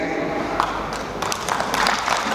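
A crowd at a plenary commission session claps. The applause is moderately loud and fairly close, with brief sharper claps rising through it and faint voices underneath.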